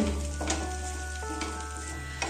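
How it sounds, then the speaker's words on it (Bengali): Milk bubbles and sizzles in a hot pan while a spoon stirs it down into thick kheer, with a soft continuous fizz and a few scraping strokes at intervals, close up and alone. "তারপর একটু নেড়ে নিচ্ছি। দুধটা যতক্ষণ শুকিয়ে না যাচ্ছে ততক্ষণ অবধি নাড়তেই হবে।"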